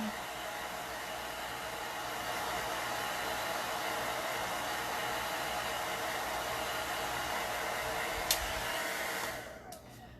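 A hair dryer blows steadily to dry chalk paint on acorns made from egg-carton cutouts, giving a continuous close whooshing hum that cuts off near the end.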